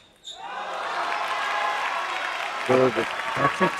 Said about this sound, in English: This is what the crowd loves. You can hear them in the background.